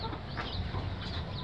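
Chickens clucking softly just after being fed, a faint, brief scatter of low clucks close by with no talk.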